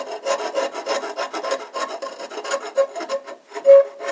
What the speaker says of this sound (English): So what we can do is use a scraper.